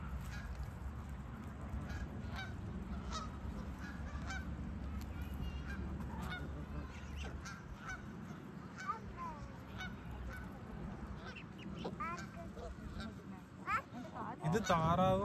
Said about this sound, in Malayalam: ഇത് താറാവും ഇത് ഡക്കും അത് ഗൂസ് ഡക്കും ആണ് കേട്ടോ